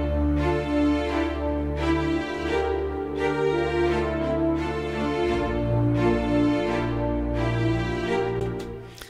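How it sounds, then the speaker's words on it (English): Orchestral video game music where strings and French horns play together, a full sustained chordal texture with swelling phrases and shifting low notes, continuous and alone. "all of that adds together with the strings and the horns to sound something like this"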